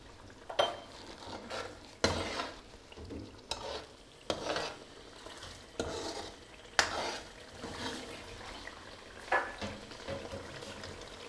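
A spoon stirs chicken and peas curry with ajwain and korma masala in a pot in a village kitchen, with steady sizzling and a series of sharp scraping clinks against the pan at irregular intervals, close and moderately loud.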